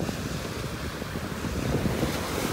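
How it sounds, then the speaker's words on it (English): A light breeze blows steadily across a beach in North Naples, Florida, with soft surf mixed into a low, continuous wind rush that stays fairly faint and even throughout, with no voices. "There is a little breeze."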